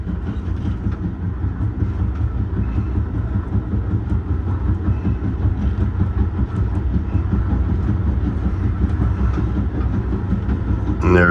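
Steady low rumble of Amtrak's Pennsylvanian passenger train rounding Horseshoe Curve near Cresson, Pennsylvania, a continuous clatter of wheels on the rails that grows slightly louder toward the end.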